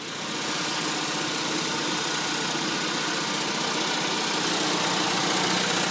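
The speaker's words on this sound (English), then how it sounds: "And that's how you run the generator." A generator runs steadily at a cottage during opening, with a constant droning engine hum and slight vibration close by. The sound stays even and loud throughout, and no one speaks.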